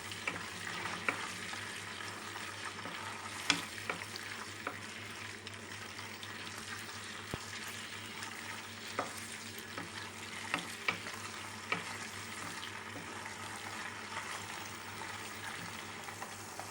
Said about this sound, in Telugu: మనకి రొయ్యలు కొంచెం క్రిస్పీగా అయ్యేంత వరకు కూడాను వేయించుకోవాలి, డీప్ ఫ్రై చేయాలి బాగా